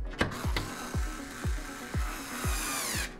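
Stand feet being screwed onto a Vizio M-Series TV give a series of about six evenly spaced ratcheting clicks and thumps, close and fairly loud, with a scraping whir at the end.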